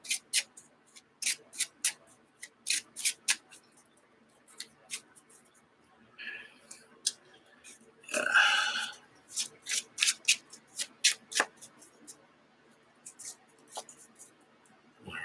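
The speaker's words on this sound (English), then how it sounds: "And before I draw it, I will go ahead and shuffle" A deck of game cards for the Arkham Horror card game being shuffled by hand at a tabletop, heard as quick crisp riffling bursts and soft flicks in a steady rhythm, with a denser rustle midway, close and fairly loud.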